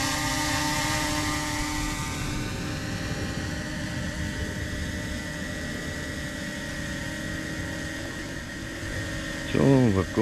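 A DJI Mini 2 drone fitted with Master Airscrew propellers idles and hovers close by, giving a steady tonal whine with a low hum, and a voice comes in near the end.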